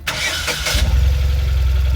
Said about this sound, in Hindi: अब हम गाड़ी पहले स्टार्ट करेंगे